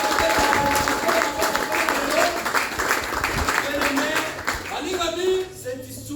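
Church congregation applauding, dense steady clapping from a crowd filling the whole stretch, with voices mixed in and a few brief tones, tapering slightly toward the end.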